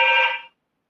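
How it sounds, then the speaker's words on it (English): A telephone gives one electronic ring: a bright, steady tone that cuts off about halfway through, then silence, with no one talking. "There's the phone."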